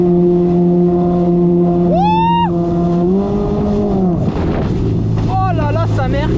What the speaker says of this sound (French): j'ai jamais conduit un jet ski aussi puissant